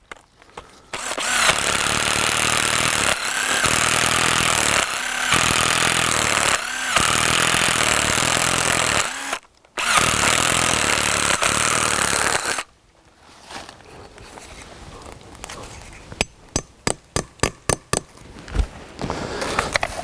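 A power drill bores a tap hole into a bigleaf maple trunk, whining loudly in several long runs with brief pauses, then quieter clatter and sharp knocks near the end.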